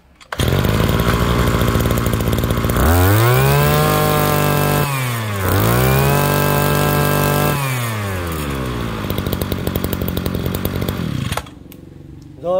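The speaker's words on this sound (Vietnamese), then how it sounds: "em test nổ cho cả nhà mình cùng xem." A Honda B16 brush cutter, imported from Thailand, is test-started and runs with a loud, steady two-stroke engine drone, revving up twice in long rising-and-falling surges before settling into a rough idle, heard up close and alone.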